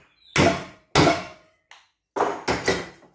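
Metal strikes on the bottom of a bench vise while pressing car control arm bushes, five sharp close hammer-like bangs in uneven bursts with short ringing decays and one faint tap.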